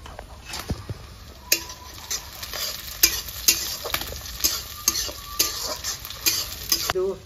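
Sliced onions with chopped green chillies sizzle in a pan while a spoon scrapes and stirs them, sharp clinks and scrapes recurring every half second or so over a steady frying hiss.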